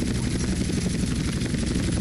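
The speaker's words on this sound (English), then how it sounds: "Maneuvering the helicopter." Skycrane heavy-lift helicopter in the video game GTA San Andreas, its rotor and engine roar steady, loud and close throughout, with no talking.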